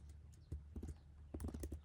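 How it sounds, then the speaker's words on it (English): Keys clatter on a computer keyboard in quick bursts of soft taps, with a pause before a second run of typing, close and fairly faint. "This is just something I'm typing now."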